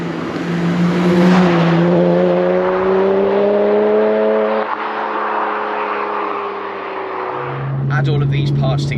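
A BMW 1M drives along, its engine note rising steadily in pitch under acceleration before dropping back and climbing again. Someone talks over it from inside the car.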